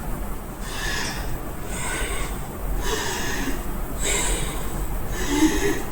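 Forceful exhalations during a breathing exercise, about six sharp, rushing breaths pushed out at a steady rhythm roughly once a second, close and fairly loud.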